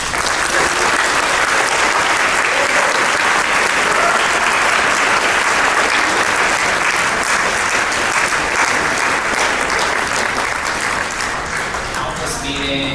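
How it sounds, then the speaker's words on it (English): A large symposium audience applauds the standing committee members, dense, loud clapping that continues steadily for over ten seconds, with some voices mixed in near the end. "can we give them a round of applause?"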